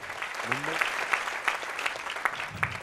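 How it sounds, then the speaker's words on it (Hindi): A church congregation claps together at a bilingual English and Hindi worship service, a dense, steady wash of applause lasting a few seconds, with a voice briefly audible underneath. "Can we clap for Jesus?"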